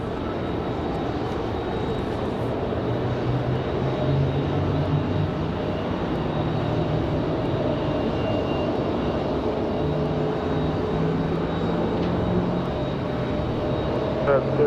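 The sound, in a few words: airplane jet engine at Raleigh Durham airport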